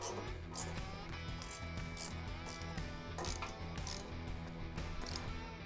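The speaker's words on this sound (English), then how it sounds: "To tighten these down, I'm using a 1/4 inch hex bit and a 1/2 inch wrench." Nuts being tightened with a 1/4 inch hex bit and a 1/2 inch wrench while installing a fat front tire kit on a custom bagger motorcycle, a steady run of quiet, rapid ratcheting clicks.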